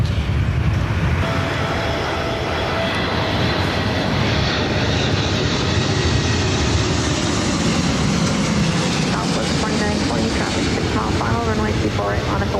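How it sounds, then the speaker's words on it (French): A Boeing airliner makes a touch-and-go landing, its jet engine roar holding steady and loud throughout, with broadband rumble under faint background voices. "ce Boeing a effectué ce qu'on appelle un touch and go, traduisez un posé décollé"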